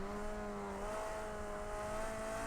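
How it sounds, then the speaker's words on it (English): Race car in Project Cars 2 with a worn, rough-sounding gearbox: a continuous engine drone with whining tonal harmonics that shift slightly in pitch, heard steadily throughout without talk. "The gearbox in this car sounds knackered."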